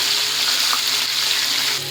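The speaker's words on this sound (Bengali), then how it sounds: "মাছগুলো সুন্দর করে ভাজা হচ্ছে।" Tilapia fish frying in hot oil, a loud, dense, continuous sizzle heard up close throughout with no talking.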